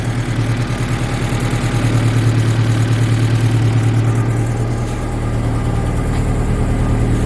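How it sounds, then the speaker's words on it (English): A Mazda Miata drift car's engine runs at a steady idle, a loud, close, continuous low rumble with even pulsing and a slight change in tone partway through, no voices. "Sounds like it's running a little better."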